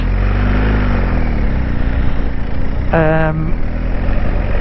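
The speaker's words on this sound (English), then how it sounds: "it's definitely a much more aggressive, sportier sound off it" A steady, throaty BMW R1250 GS Adventure HP Rallye motorcycle with an Akrapovic sports exhaust idles close by with a deep rumble, joined briefly by a short tonal sound partway through.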